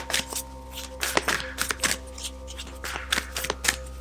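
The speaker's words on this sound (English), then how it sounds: "Just pulling you a card from the Work Your Light Oracle" Oracle cards from a Work Your Light deck being shuffled and pulled, a run of brisk riffling flicks and soft taps close up, with a low steady hum underneath and no talking.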